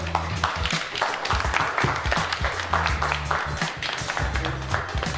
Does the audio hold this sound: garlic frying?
no